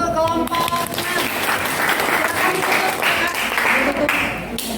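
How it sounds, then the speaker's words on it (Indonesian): Applause breaks out for a presenting group at a classroom chemistry presentation, many hands clapping steadily and fairly loudly for several seconds before tapering off. "beri tepuk tangan untuk kelompok"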